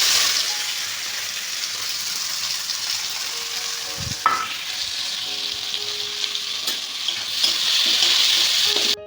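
Potatoes frying in a pan make a continuous loud hiss of sizzling oil with occasional clinks and stirring knocks, close up and without talk.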